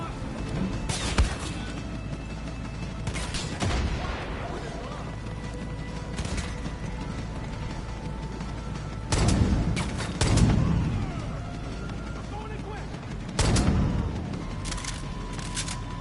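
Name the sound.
gunfire from Far Cry 5 video game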